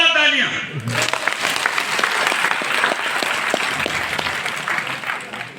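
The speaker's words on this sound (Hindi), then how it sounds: "जोरदार तालियां।" Applause from a seminar audience breaks out after a brief voice and carries on steadily at close range, dense and sustained throughout.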